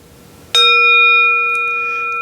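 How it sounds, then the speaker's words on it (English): Tibetan singing bowl, an upright metal bell, struck once: a sharp attack followed by a clear, sustained ringing tone with steady overtones that slowly fades, heard up close and alone. "This is a Tibetan singing bowl, technically an upright bell."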